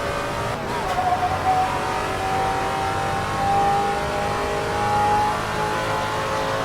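Vintage Trans Am race car in Assetto Corsa, its engine roaring hard and steady on track, pitch rising through a long rev with brief dips between pulls, loud and close throughout.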